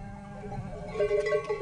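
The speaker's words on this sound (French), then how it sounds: "c'est le domaine des bergers et de leurs troupeaux de chèvres et de moutons." Sheep and goats bleat in the Serra da Estrela mountains of Portugal, a short cluster of wavering calls rising over low rustling and a faint lower murmur.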